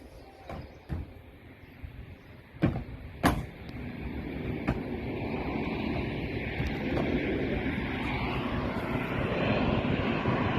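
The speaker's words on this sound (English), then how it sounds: "Plane coming in to land." An airplane coming in to land near Agia Irousalim and Alaties beaches, its engine roar building steadily from faint to loud, with a few sharp knocks and clatters early on.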